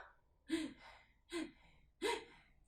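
Three quick, sharp breaths, loud and close, from a person imitating the rapid panting of hyperventilation. No words are spoken.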